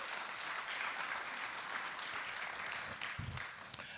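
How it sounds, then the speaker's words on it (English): An audience at a pitch night and awards event claps steadily, a dense wash of applause from a crowd that stays fairly even for several seconds before thinning slightly at the end. "Let's give them a round of applause"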